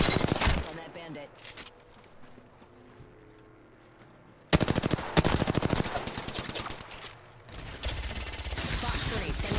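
Gunfire from the battle royale game Apex Legends rings out in sharp bursts, an opening volley followed by a quieter stretch, then dense rapid automatic fire in the second half, loud and close.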